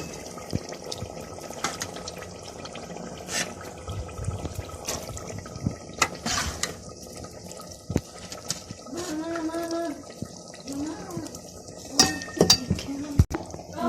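Lentils are added to a pot of cooking chickpeas, with scattered clinks and taps of a spoon and utensils against the pot, soft watery stirring, and a short run of pouring or filling sounds midway, all fairly close.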